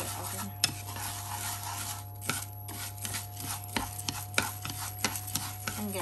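Rice grains roasting dry in a pot while a utensil scrapes and stirs them, a continuous gritty sizzle broken by repeated sharp clinks of metal against the pot, close up over a steady hum, no talk.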